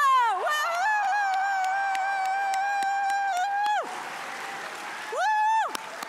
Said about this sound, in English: We're going to practice wild applause.